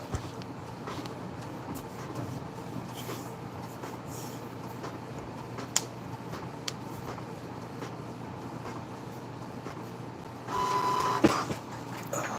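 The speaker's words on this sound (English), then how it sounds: "Good job, printer." Printer running in a shipping workspace, a steady mechanical whir with faint clicks, growing briefly louder near the end.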